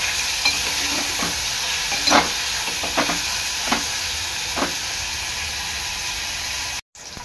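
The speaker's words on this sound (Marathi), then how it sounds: "कांदा टोमॅटो चांगला एकजीव करून शिजवून घ्यायचा आहे" Chopped onion and tomato cook together in a hot pan, giving a continuous hissing sizzle broken by a few soft stirring scrapes, then a brief dropout near the end.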